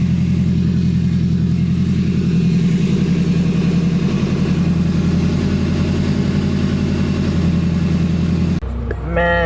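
A car engine idles steadily while warming up on a cold night, a loud, even low rumble with a rhythmic pulse that continues for several seconds before cutting to a brief clatter near the end.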